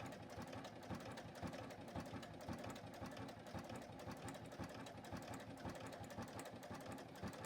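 A JUKI sewing machine stitching fabric runs at a steady, rapid mechanical rhythm, close and continuous throughout, with no voices over it.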